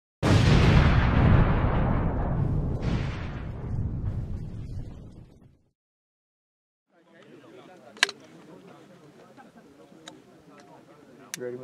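An HK M320 grenade launcher round explodes with a loud, booming blast that rolls and decays over several seconds, followed by silence and then distant crackling and faint ticks with voices.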